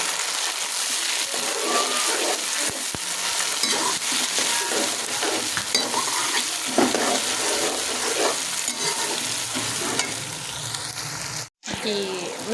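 Tomatoes and garlic-ginger paste frying in a pan while being stirred, a steady close sizzle with scraping stir strokes and a brief break near the end.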